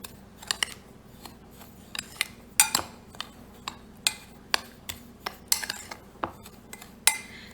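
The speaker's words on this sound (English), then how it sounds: "Mix it well." Salt and vegetable powder mixed in a bowl, a series of irregular sharp clinks and scrapes of a utensil against the bowl, close and fairly quiet.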